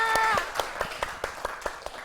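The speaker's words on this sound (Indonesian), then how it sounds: "Tepuk tangan anak-anak." Schoolchildren in a classroom clap in a loose, sparse burst, separate claps spaced out and fading, following a short tonal sound at the very start.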